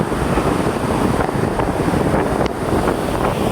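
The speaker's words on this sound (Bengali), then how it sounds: "সমুদ্রের এই চমৎকার ঢেউগুলো উপভোগ করতেছি" Continuous roar of sea waves breaking on Jesolo beach near Venice, Italy, in rain, heavily mixed with gusty wind buffeting the microphone, loud and close.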